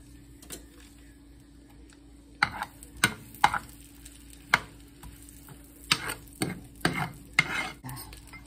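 Garlic fries quietly in a pan for chicken curry, a faint sizzle broken by several sharp stirring scrapes and taps of a utensil against the pan.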